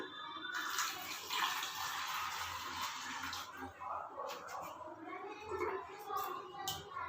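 Water pours from a bottle into a glass in a classroom demonstration, a continuous splashing gurgle that runs for several seconds and then thins into trickles and drips, with faint talk in the background.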